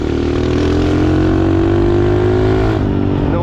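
A mini motorbike engine revs hard and steady close by, a loud droning buzz held for the whole stretch before dipping slightly near the end.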